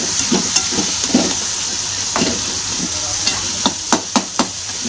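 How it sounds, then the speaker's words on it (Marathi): Eggplant for bharit stirs in an unheld wok that rattles on the stove, with soft sizzling underneath and a run of quick sharp knocks toward the end. "कढई पकडली नाही म्हणून ती लागली हालायला"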